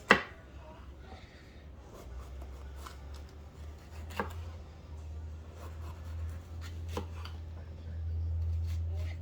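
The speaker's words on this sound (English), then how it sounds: "now we're going to start chopping the bell pepper." A knife chopping a fresh garden bell pepper on a cutting board, a few sparse, soft cuts and taps spread out over quiet kitchen background.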